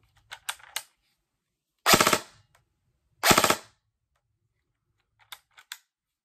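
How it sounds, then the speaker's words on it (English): Airsoft M4, a Matrix Calico Jack electric gun, fires one short single shot, then two crisp four-round bursts spaced about a second apart, each a sharp rapid mechanical rattle, followed by a few faint clicks. "So let me switch it to 4 bullet burst. 1, and then 1, 2, 3, 4 for 4 bullet burst."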